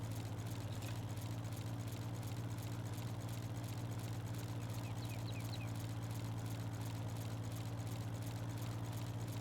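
A farm tractor engine idles steadily with a low, constant drone and hum close by, running without pause throughout and with no talking over it.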